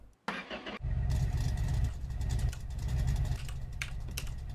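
A NIV pickup truck's engine cranks and catches, then settles into a loud, close, rough-running idle.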